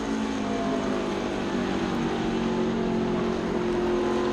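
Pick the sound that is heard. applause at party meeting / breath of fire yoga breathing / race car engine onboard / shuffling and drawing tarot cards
race car engine onboard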